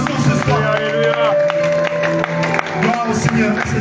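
A church congregation acclaims and claps at an evening service, a busy mix of crowd voices, clapping and music filling the whole stretch, with a voice speaking over it.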